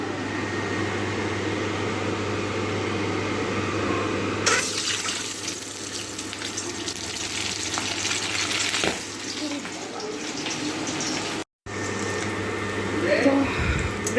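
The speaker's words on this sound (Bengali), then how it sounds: "তেলটা গরম হয়ে গেছে, তো চলো ডিমগুলো আগে দিয়েই দিই।" Eggs dropped into hot oil with grated ginger, garlic and onion nearby, a sudden loud broadband sizzle that jumps up and holds steady, briefly cutting out near the end, with a voice speaking now and then.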